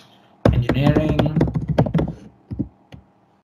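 Typing on a computer keyboard to fill in a form field, with a voice speaking over a run of quick key taps, then a few separate clicks once the talking stops.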